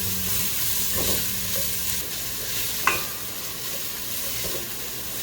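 Onions sizzle and fry in a hot pan as they are stirred, a steady, close crackling hiss with a few soft scraping strokes and one sharp tap partway through.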